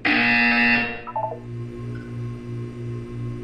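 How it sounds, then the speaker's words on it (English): A buzzer from the Portal 2 video game sounds as a steady, repeating low tone pulsing in even bursts, preceded by a loud bright electronic chime that fades out, with no voices. "You will hear a buzzer."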